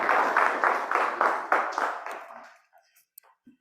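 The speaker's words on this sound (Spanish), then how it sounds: "Un aplauso, por favor." Audience applause at an academic research seminar, a short burst of rhythmic clapping from a modest group that fades out after a couple of seconds, followed by a few scattered faint sounds.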